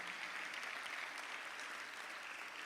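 An audience at a Macon-Bibb County State of the Community address applauds in a continuous, even wash of clapping, heard faint and somewhat distant throughout.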